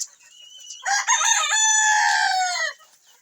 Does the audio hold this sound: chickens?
yes